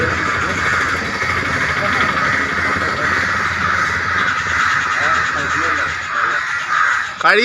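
Crows caw continuously and loudly close by, a dense flock of harsh repeated calls forming a steady chorus that fills the whole stretch with little pause.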